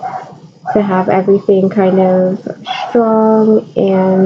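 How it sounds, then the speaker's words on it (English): A dog barks repeatedly in short, loud bursts close by, overlapping a person speaking. "sorry about the dog barking"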